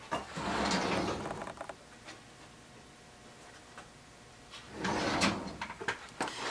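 A roll of quarter-inch double-stick tape is pulled out with two rasping, ripping strips close by, separated by a quieter pause with a few small ticks.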